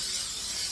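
A can of Wilton cooking spray hisses onto a baking pan in one steady, close, airy spray with no pause.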